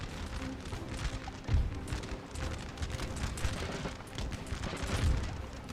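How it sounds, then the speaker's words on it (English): Distant crackling musket volleys with low cannon booms in Napoleon: Total War, a steady rattling din of battle throughout. "the Danish troops have opened fire on the cavalry"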